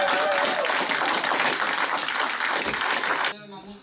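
An audience applauds with a dense, steady clatter of clapping during table tennis star Timo Boll's visit to a Butterfly store in Moers, then it stops abruptly near the end.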